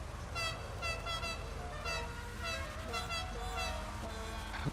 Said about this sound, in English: Whoever started honking, I hope you're happy with what the fuck you just did.